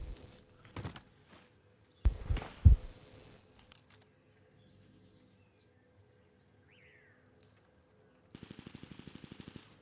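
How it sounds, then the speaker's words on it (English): Gunshots in Call of Duty Modern Warfare come as a few scattered cracks early on, then quiet ambience, then a fast, faint volley of regular shots near the end that sounds distant. "Can hear shots."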